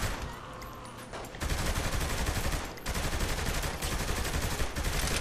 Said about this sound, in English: I'm trying to use a submachine gun from a distance.